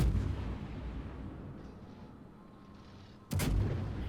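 Main battery salvo from the Yamato battleship in World of Warships, a low rumbling boom fading out, then a sudden loud blast of artillery near the end.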